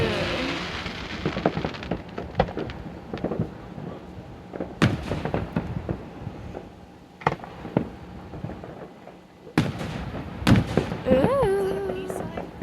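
Fireworks burst at a distance in scattered sharp cracks and booms amid a crackling, rain-like hiss, with people talking faintly between the explosions.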